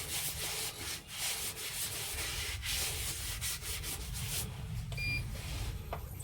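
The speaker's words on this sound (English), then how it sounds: "Coat of Yorkshire grit now." Yorkshire Grit abrasive paste being worked onto a turned wooden lidded box on a spinning lathe, giving a steady, continuous rubbing hiss over the low motor hum, with a couple of faint beeps near the end.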